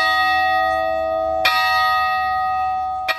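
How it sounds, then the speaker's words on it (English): The bicentennial bell rings at the close of an Ashtabula County opening ceremony in 2003. Two strikes sound, each loud and close, with a long resonant hum sustained between them. "The opening ceremony concluded with the ringing of the bicentennial bell"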